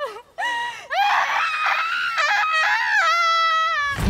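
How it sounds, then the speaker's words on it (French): A girl screams at length in an improvised film scene shot by high school students, her shrill, sustained cry rising and wavering loudly with brief breaks, alone without talk. "il y a la fille qui crie pendant un long moment"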